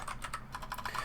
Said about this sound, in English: Now I know my keyboard is loud